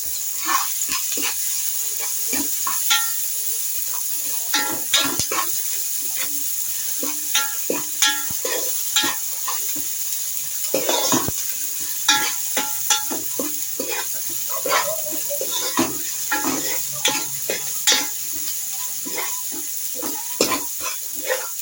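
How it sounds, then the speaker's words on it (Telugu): Ginger-garlic paste fries in a pan for chicken chukka, a steady sizzle broken by frequent scraping stirs of a utensil against the pan, close and fairly loud, with no voices. "ఈ అల్లం వెల్లుల్లి పేస్ట్ కూడా బాగా ఫ్రై అవ్వాలి, పచ్చివాసన అంతా పోవాలి."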